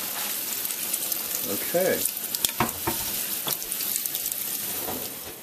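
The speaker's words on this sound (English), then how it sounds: "I'm washing the rice. Rinsing off the rice." Kagayaki rice being rinsed under a running kitchen tap, with a steady hiss of flowing water, some sloshing and clinks in the bowl, and a brief spoken word partway through.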